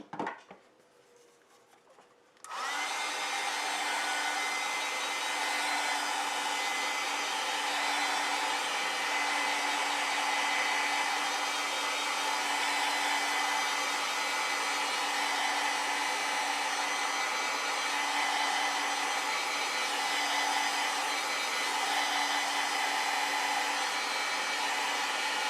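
A hair dryer blows on a watercolor painting of a snowman, switching on after a short quiet moment and then roaring steadily and loud at close range for the rest of the time.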